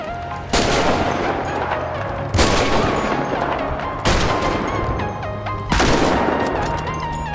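Sniper rifle fire in GTA 5 with the Redux mod, four loud sharp shots spaced evenly about every second and a half, each trailing off in a long echoing decay over a low ambient hum.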